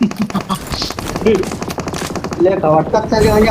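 Rapid bursts of automatic gunfire in the BGMI battle royale game, steady and fairly loud, with someone talking over the shots throughout.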